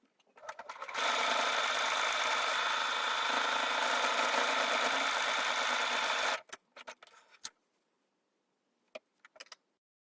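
A sewing machine stitching buttonholes into a stiffened cummerbund band, a fast steady whirring run of about five seconds that stops abruptly, followed by a few short bursts of stitching and quiet clicks, close by.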